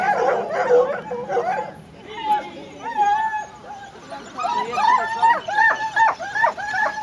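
Several hunting hounds of a drag-hunt pack bark and yip excitedly in bursts while running behind riders, with someone talking over the pack in German throughout.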